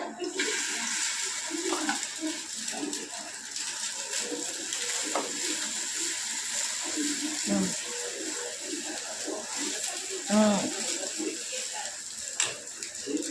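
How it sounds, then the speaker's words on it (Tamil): A vermicelli omelette mixture poured into a hot pan, giving a steady, fairly quiet sizzling hiss that carries on throughout, with someone talking over it. "நீங்கள் மிக்ஸ் பண்ணதை இப்போ போட்டுக்கோங்க."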